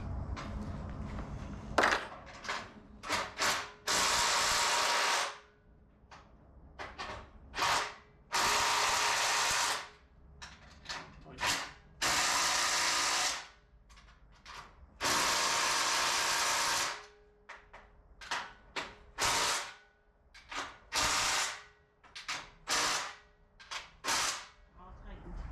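Ratchet wrench tightening bolts while a LumberPro HD36V2 portable sawmill is put together, in repeated loud bursts of rapid clicking separated by short pauses, close by with no talk.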